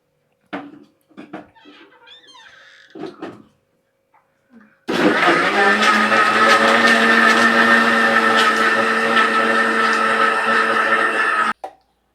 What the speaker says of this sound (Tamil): லைட் அரைக்கணும் ஆ அரைச்சி கொண்டு வருவோம்